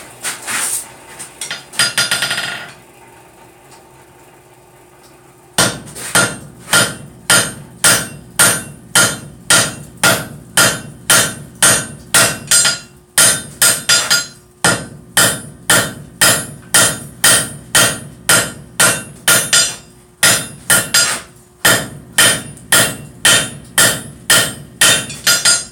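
Hot metal is forged into blacksmith's tongs with a hammer: after a brief pause, dozens of sharp, ringing strikes fall in quick, steady bursts, loud and close, with short breaks between runs.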